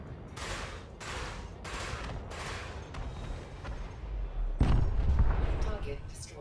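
Repeated bursts from a laser weapon in the space game Elite: Dangerous fire in a steady volley, followed by a louder, heavier blast near the end.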